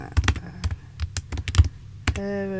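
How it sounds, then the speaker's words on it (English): Rapid, uneven bursts of keystrokes on a computer keyboard, close and clear, with short pauses between clusters of taps and no talking. "My god, my typing."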